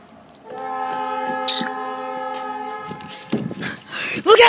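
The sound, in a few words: train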